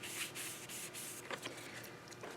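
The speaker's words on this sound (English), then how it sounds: "I'm just going to put my paper on top of the stamp, rub it a bit" Paper rubbed by hand over an inked rubber stamp gives a soft, steady close-up scuffing with a few brief sharper strokes, heard alone.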